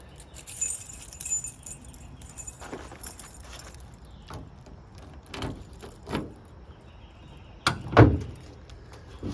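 Trunk of a 1964½ Ford Mustang popped open, with key jangling and fumbling at the lock followed by a sharp metallic clunk of the latch releasing, close, amid scattered handling noises.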